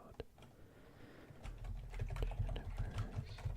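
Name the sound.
typing on a computer keyboard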